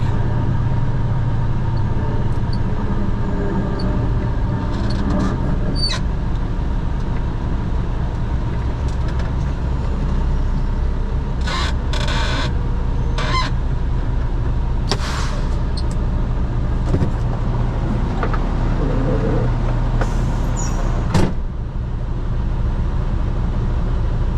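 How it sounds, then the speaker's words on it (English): Steady vehicle traffic near a boat pickup dock in Waikiki, a constant low engine rumble with passing vehicles and occasional louder swells and clunks, loud and unbroken throughout with no talking. "The problem with this pickup is all this vehicle traffic."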